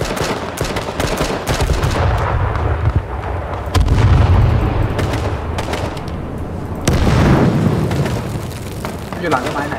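A grenade blast and booming fire during an H1Z1 King of the Kill match ring out loudly and continuously, with dense rumbling explosions and crackling shots under talking players.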